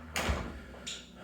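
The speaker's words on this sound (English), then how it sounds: "Close the door." The front entry door of a log tiny house swings shut with a soft thud and a brief latch click, followed moments later by a second lighter knock, close by in a quiet room.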